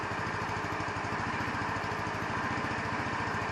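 A 150cc Chinese scooter engine idles steadily on its own, a close, even putter with a fast regular firing rhythm and no voices.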